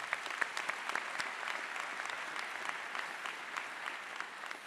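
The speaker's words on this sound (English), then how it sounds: "Let's big round of applause to the team." Steady, dense clapping from a large audience at a university presidential inauguration ceremony, sustained and even throughout without voices standing out.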